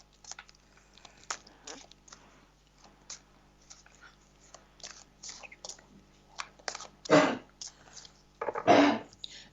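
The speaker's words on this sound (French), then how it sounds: "c'est mon chien qui tousse" A dog coughs in the background of a room: two short, harsh bursts near the end, with faint clicks and rustles before them and no talk.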